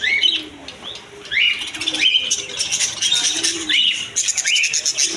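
Cockatiels and budgerigars at a Pabna Kashinathpur bird and pigeon market chirp and whistle in repeated sharp, rising calls, fairly close and lively, with soft coos and wing flutters beneath.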